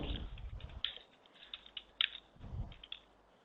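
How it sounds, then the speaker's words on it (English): Irregular keyboard typing during an online webinar, a scatter of soft clicks and taps at moderate distance over a quiet room background, with no talking. "Somebody's typing something"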